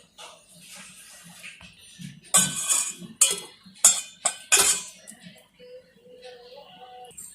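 Bread slices coated in powder set down and flipped on a hot iron dosa griddle for an evening snack, giving a few loud clinks and scrapes of a turner in a burst, then softer handling under a steady low hum.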